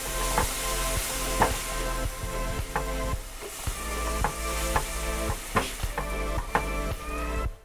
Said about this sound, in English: Add half an onion that has either been cut up finely or blended, stir through and allow to soften for a minute or two.